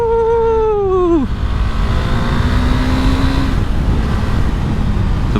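A Kawasaki Ninja H2 motorcycle at a burnout meetup, loud and close: its engine revs high, then drops sharply, then settles into a strong, rough idle-to-mid roar.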